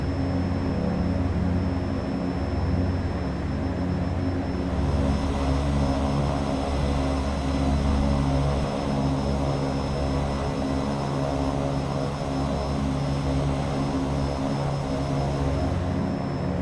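Propeller engines of a Dreamfoil EMB-110 in the X-Plane 10 flight simulator drone steadily under added throttle, a loud continuous tonal hum with layered harmonics that holds evenly throughout with no speech.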